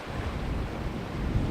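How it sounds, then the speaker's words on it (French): Sea waves washing along a coastal path under steady wind buffeting, with a continuous broad roar at moderate level and no voices. "près de la mer, les vagues,"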